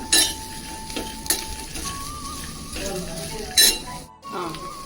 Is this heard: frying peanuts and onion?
yes